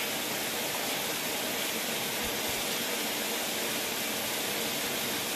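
Water sprays steadily from a loose, broken pipe joint like a fountain, a continuous loud hissing rush that fills the whole stretch without letup.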